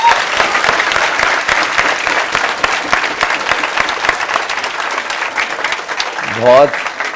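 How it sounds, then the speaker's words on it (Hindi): A classroom audience applauds school teachers with steady, dense clapping that fills the room throughout, and a brief rising voice-like tone cuts in near the end. "एक बार सभी के लिए जोरदार ताली बजा दीजिए।"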